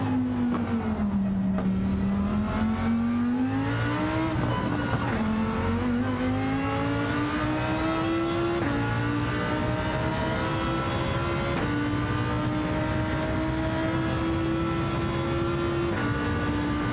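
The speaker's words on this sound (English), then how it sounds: "see what this Lamborghini can do." A Lamborghini race car in Gran Turismo 7 accelerates hard through its gears, its engine note rising steadily and shifting up between pulls, loud and continuous for the whole stretch with no talking.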